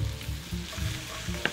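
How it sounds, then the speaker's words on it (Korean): Udon noodles with onion sizzle and crackle steadily in a hot pan as they are stir-fried, with soft rhythmic scraping and one sharp clink near the end. "우동면 넣고 자, 살짝 한번 볶는 척 뒤집어 주다가"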